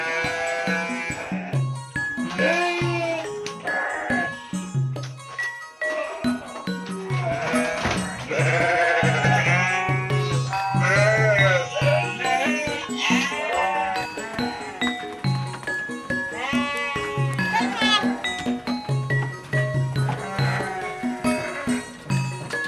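Several sheep bleat loudly and repeatedly on a farm breeding Texel and local sheep on the slopes of Merapi, overlapping calls near the microphone with faint clinking.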